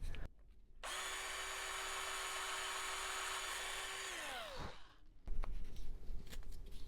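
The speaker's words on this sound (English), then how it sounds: "I'm going to drill it out, same size as the 1/4 inch." A power drill bores a quarter-inch hole through a scrap block of wood, a loud steady high whine for several seconds that winds down as the motor stops, followed by handling noise.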